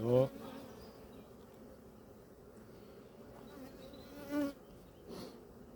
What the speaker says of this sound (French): sauve-toi de ce tas d'abeilles là